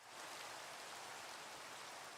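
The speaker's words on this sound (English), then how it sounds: "hopefully it'll stop raining now" Steady rainfall in the video game Minecraft, a continuous, even hiss of falling rain that holds at a constant level without a break and with no voices.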